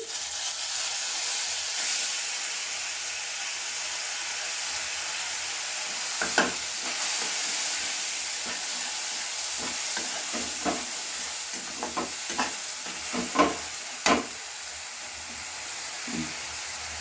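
Cumin seeds and a mixed spice paste fry in a pan with a soft, continuous sizzle, while a spatula scrapes and taps in irregular bursts toward the end; no one speaks.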